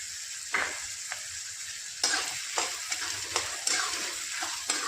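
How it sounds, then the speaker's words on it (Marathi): Onion, tomato and ginger-garlic paste fry in a pan for Maharashtrian street-style pav bhaji, a steady close sizzle broken by repeated scraping stirs of the spoon, with no talk. "आता इथे मी आलं लसणाची जी पेस्ट केलेली आहे ती टाकते."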